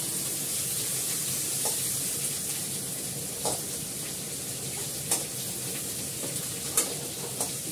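Chopped onions frying in hot oil on a gas stove, giving a continuous hissing sizzle at moderate distance, broken by occasional faint scrapes of stirring.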